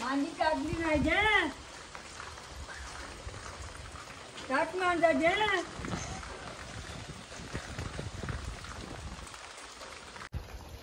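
Heavy monsoon rain falls on a village in Raigad district, Konkan, as a steady close wash of pattering hiss. Two loud, drawn-out vocal calls rise above it early on.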